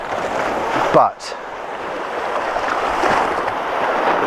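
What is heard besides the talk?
sea waves smacking against concrete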